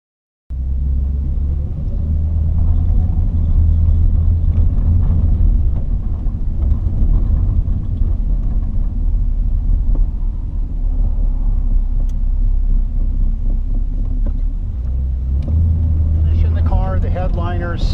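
Low, steady engine rumble of a 1950 Ford Custom Shoebox Ford out for a drive, heard from inside the car, with someone talking over it near the end.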